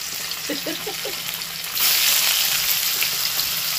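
Paneer pieces frying lightly in a pan for matar paneer, a steady close sizzle that swells louder partway through, with a few soft chirps early on and no talk.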